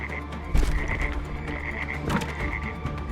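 Frogs croak in a dense, steady chorus of repeated rasping calls over constant low background noise, with no talking.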